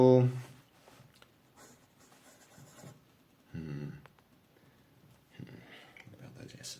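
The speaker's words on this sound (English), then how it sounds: "So up and down on the side of the nib, backwards and forwards." Wingsung 632 fountain pen with an 18K gold nib writing on paper, soft scratchy strokes in short bursts, close and faint, broken up by talking.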